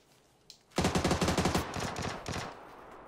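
Automatic gunfire in the PUBG video game, likely from an M249 light machine gun: one sharp shot, then a loud, rapid burst of about ten rounds that trails off into scattered echoing reports. No voices are heard.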